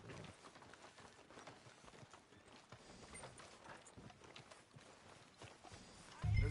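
Horse hooves clip-clop in Red Dead Redemption 2, a faint, steady walking rhythm under background ambience, ending in a sudden louder low thump.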